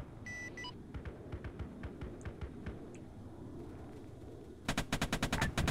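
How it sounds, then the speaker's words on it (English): The 70mm cannon on a Pelican dropship firing in the ArmA 3 OPTRE game, with rapid rhythmic thudding shots over a low rumble and a louder burst of fast shots near the end. "I can manually fire the 70mm multi-perp cannon on this Pelican, though."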